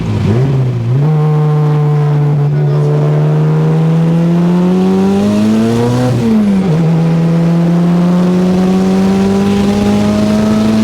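A boosted 20-valve 4AGE engine in a Toyota Tercel, fitted with a Garrett 3076R ball-bearing turbo, drones loudly and steadily, then its pitch climbs and dips as the revs change, close up with no voices.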